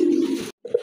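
Pigeons at a pigeon sale give a low, throaty coo lasting about half a second, then a short pause and a second, softer coo, close by with no talk.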